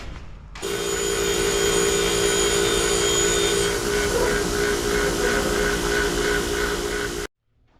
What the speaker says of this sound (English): So we go back to the grinder here and we grind those off.